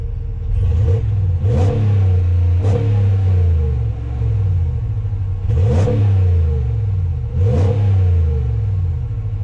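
A 2021 Ram 1500 Bighorn pickup, rated at 395 horsepower and 410 lb-ft of torque, revs its engine up close and loud in several sharp throttle blips over a deep, steady idle rumble.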